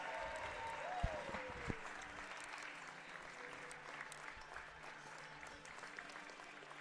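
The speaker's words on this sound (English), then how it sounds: "one final round of applause for our graduating seniors, Ruth Adams, Kellyanne Averill, Sky Burris" Steady applause from a crowd for graduating seniors at a women's college basketball game in a gym, sustained clapping of moderate loudness through the whole clip with a couple of louder claps near the start.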